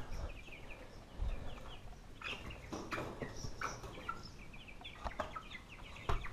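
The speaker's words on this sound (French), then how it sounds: "Donc je pense que j'ai 2 coqs et 4 poules." Copper-hackled chickens with feathered legs, two roosters and four hens, cluck softly and intermittently over an outdoor background while being fed grass, with a few sharper calls near the end.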